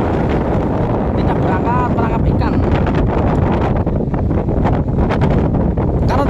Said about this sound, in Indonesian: Karena di hari ini ada angin besar ya, jadi kapal tidak berlayar